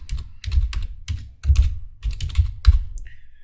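Fingers typing on a computer keyboard, close and distinct, in quick irregular bursts of clacking keystrokes with brief pauses between groups.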